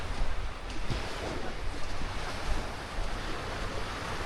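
Surf at a beach in Playa del Carmen, in front of the Vivid by Hyatt resort, a steady broad wash of breaking waves with some wind rumble on the microphone, with no talking.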